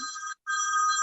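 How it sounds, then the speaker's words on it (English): An old-fashioned bell-style phone ringtone trills steadily and clearly, broken by one brief gap before the ringing resumes, moderately loud with no talking. "That's a ringer. The ringer I chose is old-fashioned."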